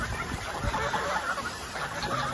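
Farm geese give soft, clucking honks and chatter at a moderate distance over a low background hum, with a few clearer calls near the start.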